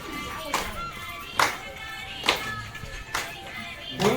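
Children clap their hands while dancing the Suwa folk dance, with about five sharp, evenly spaced claps roughly a second apart over a murmur of background voices.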